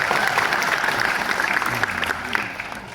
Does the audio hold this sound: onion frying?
no